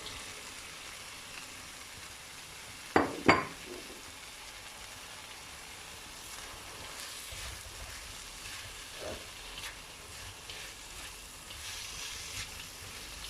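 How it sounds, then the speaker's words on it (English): Chicken and carrot strips sizzle steadily in a hot pan, with a couple of sharp metallic clacks from stirring early on, then continued frying. "Stir this and let the chicken to cook."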